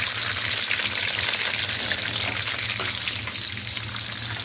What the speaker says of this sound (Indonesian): Pertama-tama saya akan goreng terlebih dahulu adalah buncisnya